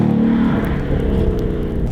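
A Ford Mustang V8 convertible driving on snow gives a deep, steady engine drone near the listener, with a low rumble that shifts slightly in pitch partway through, held around 3500 rpm before a downshift.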